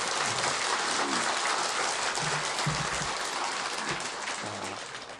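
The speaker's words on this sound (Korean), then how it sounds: "다시 한번 힘찬 박수를 한번 주세요" An audience at a Sunday dharma talk at a Buddhist temple gives steady, dense applause that fades slightly at the end, heard close with no talking over it.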